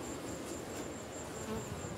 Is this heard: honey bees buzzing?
yes